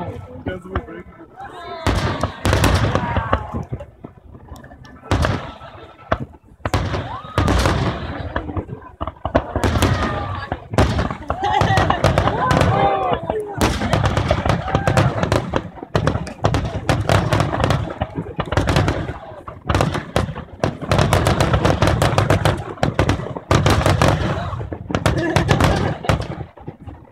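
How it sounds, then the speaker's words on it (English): A dense Independence Day fireworks show at Shoreline Amphitheatre in Mountain View, 2014, with rapid crackling bursts and booms packed across the whole stretch, loud and near, and people talking now and then over the blasts. "This is all his fireworks right now?"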